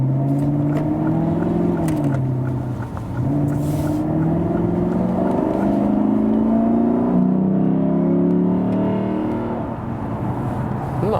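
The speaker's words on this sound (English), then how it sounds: "This was the normal mode, so very harmonic, sonorous acceleration, also the sound. That is of course due to the naturally aspirated engine." A 2017 Lexus GS F with a naturally aspirated V8 accelerates in normal mode, its smooth harmonic engine note climbing through several gear changes with brief dips between pulls, loud and close from inside the car.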